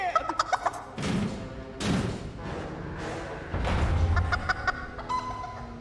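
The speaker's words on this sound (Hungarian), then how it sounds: "Nézd meg, ott mindjárt jön egy kibaszott csirke." A chicken in the Family Guy: Back to the Multiverse video game, with loud, close squawking clucks in several bursts over steady game background noise, preceded by a few short ticking taps.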